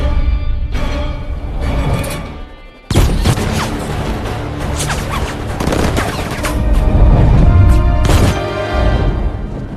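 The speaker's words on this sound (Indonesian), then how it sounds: "Agent 47 pun turun dari mobil lalu menembaki mereka semua." Gunfire fills a film action scene as an agent shoots at a group of men, loud rapid bursts and booming shots with mechanical clatter, continuing almost without pause.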